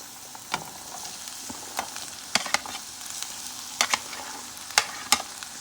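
Okra frying in a pan with other cooked ingredients for a Guyanese breakfast: a steady hiss runs throughout, broken by sharp scraping clacks of a spoon stirring at irregular intervals, close and fairly quiet, with no talking.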